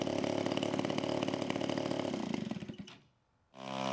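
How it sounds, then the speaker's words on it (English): A large RC model airplane's EME gas engine runs loud and steady with a raspy, chainsaw-like buzz, then sputters and cuts out briefly before catching again near the end. "The EME engine ran great right out of the box with very little adjustment needed."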